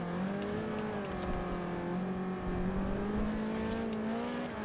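A car engine in Forza Horizon 2 holds a steady, loud drone under throttle, its pitch rising and falling slightly as the revs shift, with no voices over it.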